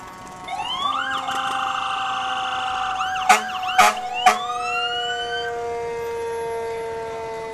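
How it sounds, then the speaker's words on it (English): A fire truck's wailing siren rises and falls steadily, loud and close, at a Christmas parade, with a few sharp bangs or horn blasts cutting through midway before it keeps sounding. "Their sirens work."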